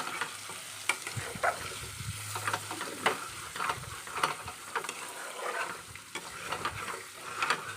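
Chicken curry for sherva frying in oil and being stirred, a close sizzle broken by scraping spoon strokes against the pan at an uneven rhythm, with no talking.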